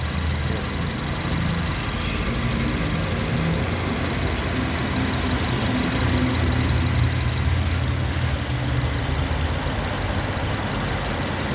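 A Honda City 1.5-litre CNG car engine idles continuously at close range, a steady droning rumble with a faint rhythmic knock and no voices.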